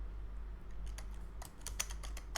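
Quick bursts of keystrokes on a computer keyboard while entering C code, close and fairly quiet, with sparse taps at first and then a denser run of clicks.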